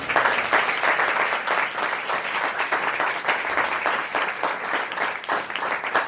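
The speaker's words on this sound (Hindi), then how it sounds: "सो खुदा के लिए जोरदार तालियां करेंगे।" Loud, sustained applause from a church congregation at a Thanksgiving night meeting, dense even clapping throughout with no speech over it.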